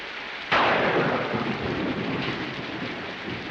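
Sharp, close thunderclap in a movie scene breaking over steady heavy rain, then rumbling away into a continuous downpour that fills the scene with no voices.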